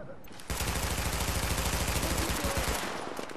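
An automated turret in The Division fires a rapid, steady stream of shots for about three seconds, loud and close, the burst tapering slightly at the end.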